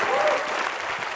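Studio audience applause on the Indian comedy talk show Comedy Nights With Kapil, a brief loud burst of dense clapping heard on its own.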